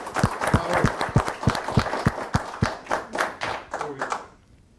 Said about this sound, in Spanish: un aplauso para todos ustedes, un aplauso para ustedes